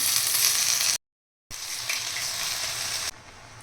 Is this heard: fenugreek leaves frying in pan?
yes